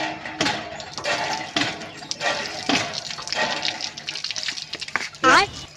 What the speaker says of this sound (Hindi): प्यास लागी है, पानी पी ली।